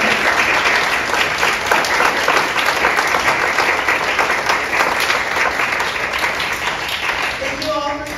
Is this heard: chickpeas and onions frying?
no